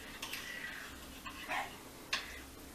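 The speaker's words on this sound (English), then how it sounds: "You hear my little dog barking outside?" Small dog barking outdoors, heard faintly at a distance: a few sharp, scattered yips over a low background hum.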